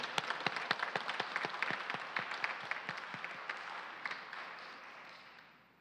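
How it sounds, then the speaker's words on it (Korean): A church congregation at the 39th joint assembly applauds pastor Lee Seong-hee after his sermon: dense, sharp clapping that starts strong and close, then thins and fades out over several seconds. "이성희 목사님께 다시 한번 박수를 올려드리겠습니다"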